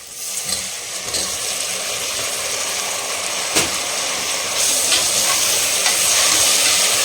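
Chopped tomatoes sauté in oil in a pan for a Mattu Pongal kurma, giving a loud, steady sizzle with scraping stirs throughout and no talking.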